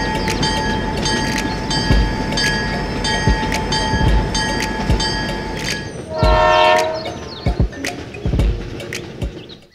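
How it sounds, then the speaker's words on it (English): Passenger train rolling past a station: steady rumble and wheel noise with a sustained horn tone, then a loud burst of squealing, rattling carriage noise close by, with sharp clanks toward the end. "The train continues its journey."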